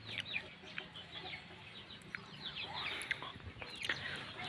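Chickens clucking in a rural village yard, scattered soft clucks and a few sharper squawks over a low background murmur, fairly quiet and near.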